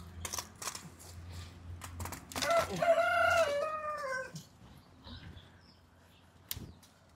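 Backyard roosters crow loudly and close in one drawn-out cock-a-doodle-doo, with short clucks and scattered knocks before and after.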